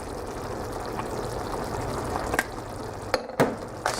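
Garlic salt being stirred into spaghetti sauce in a pan, a steady soft bubbling simmer with a few sharp scraping clicks of the spoon near the end, close and fairly quiet.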